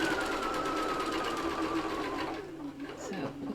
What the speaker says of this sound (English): Really, it's a very fiddly job with a sewing machine